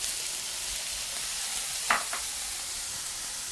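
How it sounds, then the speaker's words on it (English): Mushrooms sizzle steadily in a pan with oil, butter and garlic, a constant close hiss broken by a brief clatter of tossing midway. "mushrooms go in. Give a little toss to coat it with that oil and butter and garlic."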